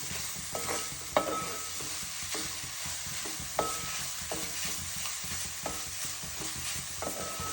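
Crushed tender jackfruit thoran being stirred in a pan over a low sizzle, with repeated spoon knocks and scrapes against the pan at uneven intervals, no speech.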